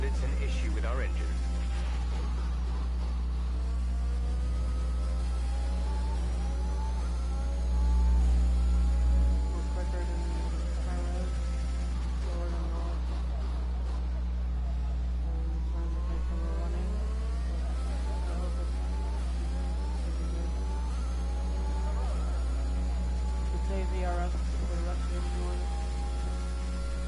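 Failing car engine in the F1 2021 racing game at the Canadian race, a continuous low drone with rising and falling revs and gear shifts throughout, with a brief louder bump partway through and someone talking over it.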